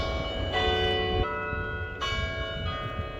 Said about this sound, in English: You can hear the bells chiming.